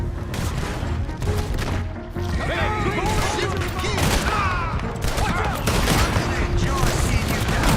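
Gunfire in Red Dead Redemption 2 as a chaotic volley of repeated shots and impacts that runs continuously under raised voices and shouting.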